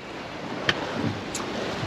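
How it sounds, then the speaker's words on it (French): Sea waves slosh around a sailboat under way on a Normandy coastal rally, a steady wash of water and wind noise with a couple of brief splashes. "Oh, ça bouge un peu, quelques vagues."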